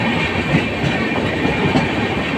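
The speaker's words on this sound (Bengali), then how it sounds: "পাহাড়ের পাশ দিয়ে আমাদের ট্রেন যাচ্ছে" Kamrup Express train rolling past hills, heard from onboard as a steady, loud rumble with a rhythmic clickety-clack of wheels over rail joints, continuous without a break.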